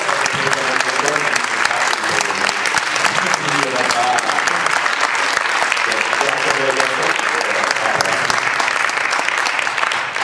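A large audience gives big, sustained applause, loud and continuous throughout, with voices mixed into the dense clapping.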